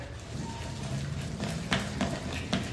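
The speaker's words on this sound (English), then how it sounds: "I'm gonna mix all this up to where there's no lumps in it" A spoon working milk into cinnamon roll icing, with steady close scraping and stirring in a bowl and a few sharper taps near the end, no voices.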